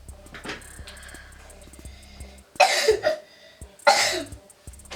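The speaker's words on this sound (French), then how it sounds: "Il va même tousser dans la vidéo." Two bursts of coughing, close and fairly loud, separated by a short pause, with faint quiet background noise before them.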